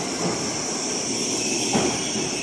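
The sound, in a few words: bullet train at JR station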